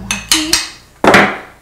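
A small metal jump ring being hammered during jewellery chain making, four sharp close metallic taps, three quick strikes followed by a pause and a final louder blow, each ringing briefly.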